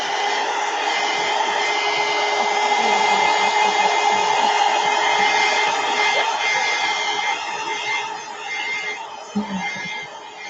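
Hair dryer running steadily to dry a freshly painted art journal page, a loud continuous whirring hum that holds for most of the clip, then dips and wavers near the end.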